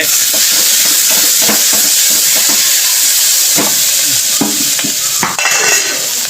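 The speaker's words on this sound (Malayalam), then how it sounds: "ബീഫിനുള്ള ഉള്ളി ഇതാ ഇങ്ങനെ വാടിക്കൊണ്ടിരിക്കുകയാണ്" Onions for beef sautéing in a pan with loud, steady sizzling and hiss, broken by repeated scraping strokes of a spoon stirring them through the oil, close and continuous.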